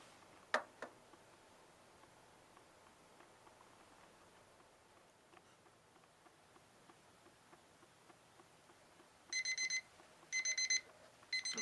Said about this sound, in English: We have our timer set right now for 3 minutes and 30 seconds.